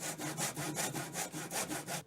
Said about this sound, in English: We planed some boards so we can join them together for the sides.